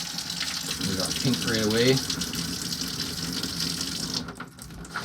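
Water runs from a bathtub faucet in an RV being winterized, a steady splashing stream with a voice talking over it; the flow drops away sharply near the end.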